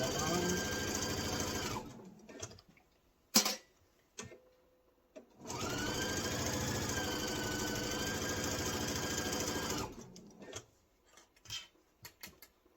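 A sewing machine stitches fabric for a kitchen-print apron in two long, steady whirring runs, close and even, with short pauses, light clicks and handling noises between and after them.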